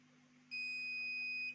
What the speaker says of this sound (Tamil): பீப் வருதுங்களா? நமக்கு இந்த பக்கம் வச்சாலுமே பீப் வருது.